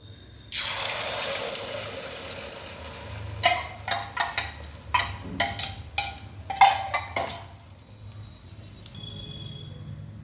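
Milk and egg dosa batter hits a hot pan with a sudden loud sizzle, followed by a run of sharp scraping and clattering bursts as it is spread, then the hiss fades to a low simmer.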